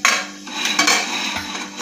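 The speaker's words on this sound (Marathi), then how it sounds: "कुकरचं आपण झाकण लावून घेणार आहोत" A metal lid is fitted onto a pressure cooker holding small potatoes, giving a few sharp metallic clanks and scrapes close by, with a louder clatter near the start and middle and no talking.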